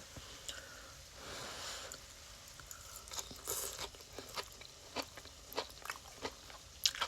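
Someone eating hearts of palm linguine pasta, quiet close-up chewing and bites with soft crunchy clicks and smacks, irregular and faint, alone without talk.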